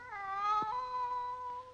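A single drawn-out cat yowl outside a house, from a 1935 MGM cartoon, wavering and close, rising slightly before trailing off.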